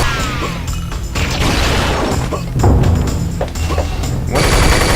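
The ASMD shock rifle fires in the Unreal multiplayer video game amid a dense, loud, continuous clatter of weapon blasts and impacts that keeps going for the whole stretch.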